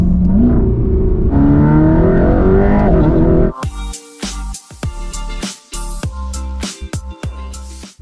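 A Mercedes-AMG GT Black Series sports car engine revs up hard, its pitch climbing for a few seconds, then cut off by a punchy rhythmic beat.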